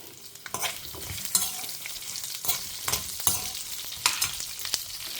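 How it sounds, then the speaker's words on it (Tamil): Onions and chillies fry in a pan with a steady crackling sizzle, broken by regular scrapes and knocks of a stirring spoon, close up and with no voices. "இது கொஞ்சம் நல்லா பரபரான்னு பொரியட்டும்"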